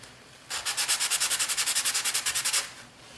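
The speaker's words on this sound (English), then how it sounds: "I'm just going to go ahead and give it a couple of swipes back and forth" A Graphtech Tusq XL guitar nut is rubbed back and forth on sandpaper, giving about twenty quick, even rasping strokes in a steady rhythm, close and fairly loud, with no voices.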